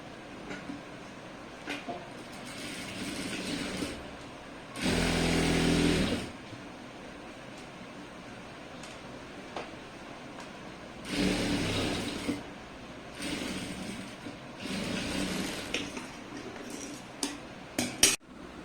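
A sewing machine stitches tailoring fabric for a garment in three separate bursts, each a few seconds long, over a steady background hum with no talking.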